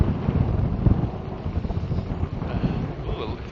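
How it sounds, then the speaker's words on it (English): Strong wind buffeting the microphone while riding a 2018 Rad Power RadMini electric fat-tire folding bike, a loud, continuous low roar with gusty fluctuations. "it's really windy here."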